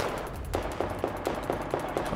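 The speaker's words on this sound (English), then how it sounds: "Can't tell where these shots are coming from, to be honest." Gunfire in Battlefield 4 during the Singapore mission, played on PC: a steady rapid string of fairly quiet, distant-sounding shots about four per second over ambient battle noise.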